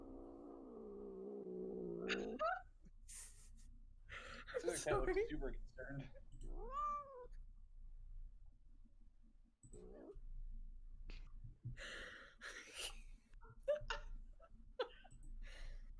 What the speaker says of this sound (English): that's a grumpy kitty